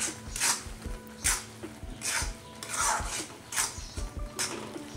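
Sugar is stirred into carrot halwa in a pan, with rhythmic scraping and rubbing strokes of a spoon that repeat roughly every second, close and moderately loud, and no speech.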